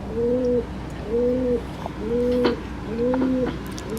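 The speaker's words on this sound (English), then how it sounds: "there's a pigeon outside my window" A pigeon outside a window coos repeatedly in a steady rhythm, four soft two-tone calls at even intervals, heard from nearby over a faint background hum.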